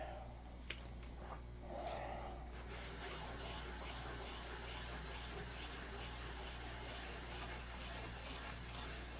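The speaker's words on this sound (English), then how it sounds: "Now this is 1000 grit sandpaper, pretty aggressive sandpaper" Close, faint rubbing of 1000 grit sandpaper over a surface in steady back-and-forth strokes, with a low hum beneath and no talk.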